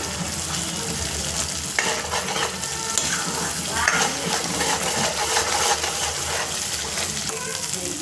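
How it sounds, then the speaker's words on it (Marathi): Paneer fries in a pan with spice masala, a steady dense sizzle running throughout with a few stirring scrapes and clinks near at hand. "हे बघा आता मस्त तळून झालं"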